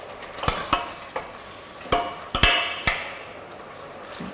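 Braised moringa leaves are stirred in a pot, a quiet background simmer punctuated by a handful of sharp clanks and knocks of a utensil against the pot rim, irregular and close.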